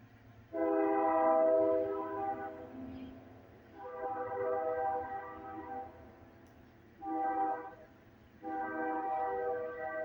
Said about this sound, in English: And got another train coming through.